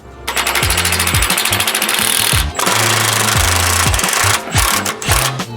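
A power tool, most likely an impact wrench, hammers loose a suspension bolt on an Audi S4 during a subframe and mount job, firing in loud rapid rattling bursts with short pauses between them, close up.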